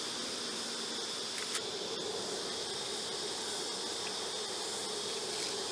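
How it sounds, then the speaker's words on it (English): Honeybees hum steadily while a summer swarm is handled, a constant, moderately faint buzzing drone throughout with a couple of brief clicks. "some of the bees are going to want to climb up and fly"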